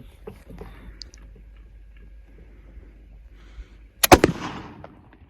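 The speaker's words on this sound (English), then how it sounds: "Okay, second shot with a 303." A single .303 rifle shot fired at bulletproof glass cracks out sharply near the end after several quiet seconds of faint outdoor background, followed by a brief decaying echo.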